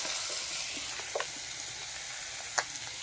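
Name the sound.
meat cooking in a pan without oil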